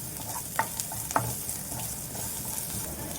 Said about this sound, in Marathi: आता असं परतून घेणार मी दोन मिनिट